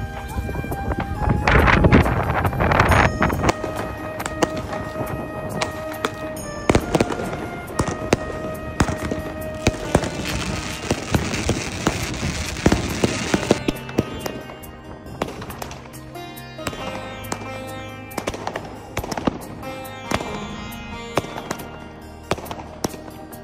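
New Year fireworks and firecrackers going off at midnight in the UK: dense volleys of sharp bangs and crackling bursts, loudest early and thinning into scattered pops and whistles, with faint voices in the background.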